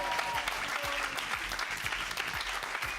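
A studio audience at a high school academic quiz bowl match applauds a judge, with steady, dense clapping from many hands and no breaks from start to finish.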